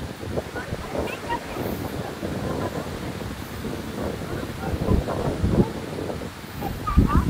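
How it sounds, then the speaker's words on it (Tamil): Steady rushing floodwater roars close by after sudden heavy rain, a broad churning wash like surf with gusts of wind noise, swelling louder toward the end. "கடல் மாதிரி தண்ணி போய்கொண்டே இருக்கு"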